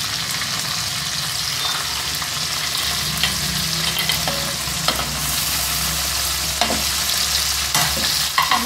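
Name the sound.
tomatoes frying with garlic paste in oil, stirred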